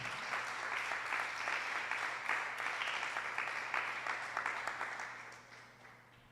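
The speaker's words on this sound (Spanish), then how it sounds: "Dele un fuerte aplauso al Señor." A congregation claps together during a Holy Week sermon service, strong rhythmic applause with a low hum beneath that fades out toward the end.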